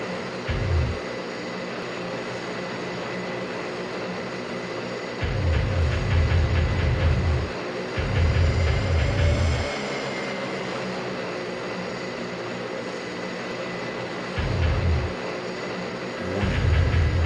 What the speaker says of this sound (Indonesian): Pesawat tiba.